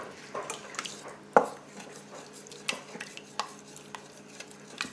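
Ground beef stroganoff stirred inside an Instant Pot, a spoon scraping and clinking against the metal insert in a handful of separate strokes, one knock louder than the rest, close by and without speech.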